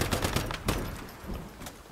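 Enemy gunfire in the Once Human video game: a dense fusillade of rapid shots, the loudest burst near the start and another midway, continuous and close with no talk over it.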